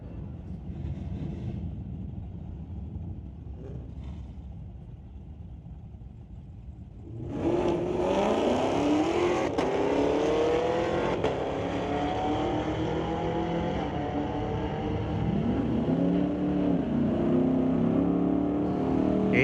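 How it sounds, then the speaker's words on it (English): At Mission Raceway Park, a 2019 Dodge Challenger and a 2019 Chevrolet Camaro launch in a street-legal drag race. A low idle rumble gives way to a sudden loud roar of engines revving and climbing through gears, holding at full throttle. "Clayton Schultz in the left lane driving the 2019 Challenger. AJ Sandu in the right lane driving that 2019 Camaro."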